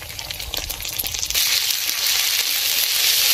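Ground ginger, garlic and cumin paste hits fried onions in a pan and frying becomes a loud, steady hissing sizzle after a brief, quieter start with stirring, close up and without talk.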